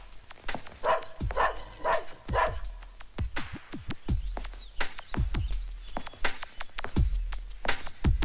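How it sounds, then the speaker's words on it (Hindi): A dog barking repeatedly inside a house in an action movie scene, loud sharp barks in an irregular rhythm, close to the microphone. "ये रोमियो क्यों भौंक रहा है? घर में कोई दूसरा कुत्ता आया है?"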